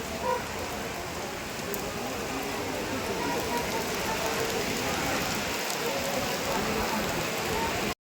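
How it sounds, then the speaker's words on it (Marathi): Heavy, wind-blown rain pours down on an emptied outdoor market, a dense, constant hiss of drops on surfaces that stays loud and unbroken throughout. "पाऊस येतोय खूप जोरात"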